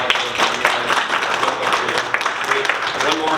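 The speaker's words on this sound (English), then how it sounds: "Give applause back." A live audience at a leadership talk claps in a dense, steady burst of applause that carries evenly through the whole stretch without a pause.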